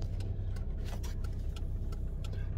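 A big white truck rolls past outdoors on a chilly day, a steady low engine rumble and road noise holding throughout with faint ticking on top.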